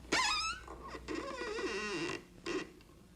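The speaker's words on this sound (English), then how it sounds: "and squeak the parlor door" An old house's parlor door squeaks in a long, drawn-out creaking groan with rising and falling pitch, followed by a shorter creak, heard up close and alone without any talk.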